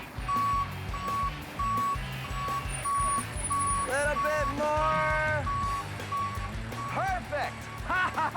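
Regular reversing beeps from a cement truck backing up, evenly spaced and loud over a low truck engine rumble, with people talking and directing nearby.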